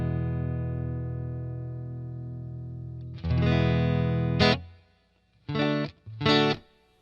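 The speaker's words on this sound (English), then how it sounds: "What's the first thing we want to do? Add reverb." Electric guitar played through a Boss Katana 50 MkII practice amp with reverb added: a long sustained chord ringing out, then a sharper strum, followed by two short choppy chords with a reverb tail, loud and close, no talking.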